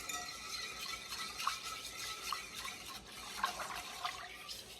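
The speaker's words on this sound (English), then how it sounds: "just make sure you're whisking while you put them in." Chia seeds are whisked into a liquid vanilla dessert mixture, making a soft, wet, rhythmic swishing with faint repeated clicks of the whisk, quiet and close.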